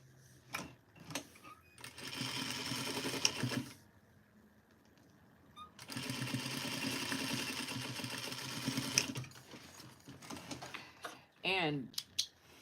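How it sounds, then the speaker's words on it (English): Sewing machine stitching fabric for a duster garment, running in two long steady whirring bursts with short stops between, close and clear, with someone talking briefly around the stitching. "we're gonna sew this together."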